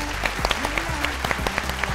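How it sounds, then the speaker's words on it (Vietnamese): An audience claps steadily and fairly loudly for a children's dance performance at a Vietnamese stage event, in a brief burst of dense, even applause. "Mọi người hãy cho các bạn nhỏ một tràng pháo tay nào."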